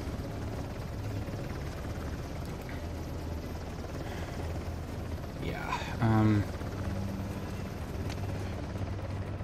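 A helicopter in the video game Uncharted: The Lost Legacy drones steadily over a railyard as a constant rotor wash that fills the whole stretch, with a brief louder tonal sweep partway through.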